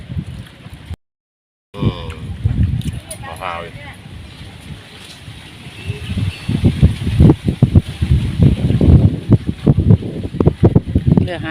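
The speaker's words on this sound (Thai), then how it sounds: "มารับลมทะเลเย็นๆ คลายร้อนด้วยกันค่ะ" Cool sea wind gusts along a Thai coast, rushing and buffeting the microphone with steady roaring noise that swells louder in the second half, with faint voices underneath.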